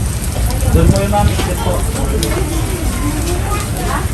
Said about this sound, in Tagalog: At medyo umuulan po.